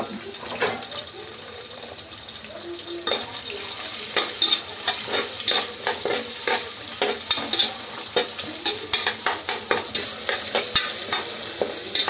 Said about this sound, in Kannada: ಫಸ್ಟು ಕ್ಯಾಪ್ಸಿಕಮ್ಮನ್ನು ಎಣ್ಣೆಗೆ ಸೇರಿಸಿ, ಆಮೇಲೆ ಈರುಳ್ಳಿಯನ್ನು ಹಾಕಿ ಚೆನ್ನಾಗಿ ಬೇಯಿಸ್ಕೊಳ್ಳಿ.